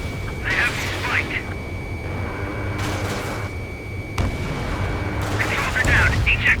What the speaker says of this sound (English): Strider 1, missile away.